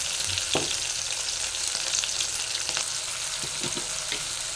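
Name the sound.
onions frying with curry leaves and green chillies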